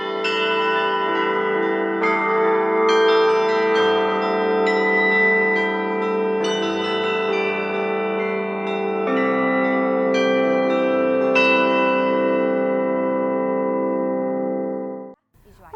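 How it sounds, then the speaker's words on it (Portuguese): Church bells ringing in Mariana, loud and close, repeated strikes layering into a sustained, resonant ring that swells and holds before cutting off near the end. "ela não gasta um vintém para ouvir o sino"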